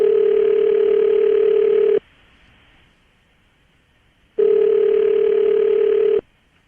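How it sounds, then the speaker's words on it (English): Telephone ringback tone on an outgoing call, two long steady tone bursts separated by a silent gap, loud and clean with no talk. "I'm gonna dial the phone number right now."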